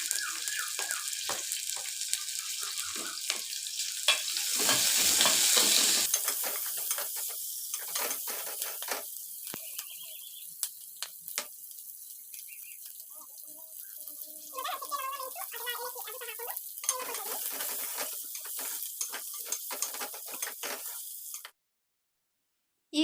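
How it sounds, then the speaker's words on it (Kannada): Ginger and garlic masala fry in oil, giving a hissing sizzle broken by clinks and stirring, swelling briefly early on and then settling, before cutting to silence near the end; no speech. "ಮತ್ತು ಶುಂಠಿ ಬೆಳ್ಳುಳ್ಳಿ ಹಾಕ್ಕೊತಾ ಇದ್ದೀನಿ"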